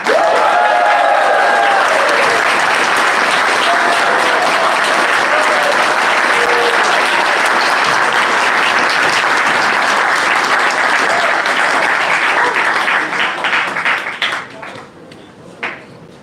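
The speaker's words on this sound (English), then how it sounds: "we have to do big applause for all 20 teams who made it to the final" Big audience applause for twenty finalist teams at a hackathon final event in Tashkent, a loud, sustained roar of many hands clapping that holds steady for about thirteen seconds before thinning out and fading.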